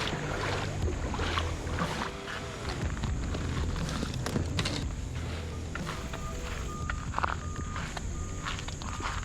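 Fishing boat under way on a clear creek, with a steady motor drone mixed with water rush and splashing close by, plus occasional knocks and rattles on the hull; no one speaks.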